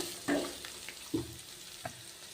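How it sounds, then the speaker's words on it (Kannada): Onions and peanuts fry in a pan with cumin, mustard seed and urad dal, giving a soft continuous sizzle broken by a few brief stirring scrapes. "ಈರುಳ್ಳಿ ಫ್ರೈ ಮಾಡ್ತಾ ಇದ್ದೀನಿ."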